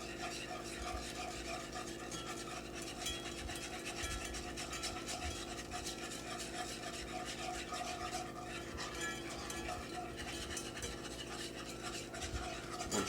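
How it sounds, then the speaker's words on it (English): A metal whisk scrubs browned meat residue off the bottom of a pan, a steady continuous rasping scrape that runs unbroken throughout at moderate level with no talk. "Make sure you're scrubbing that pan with that whisk."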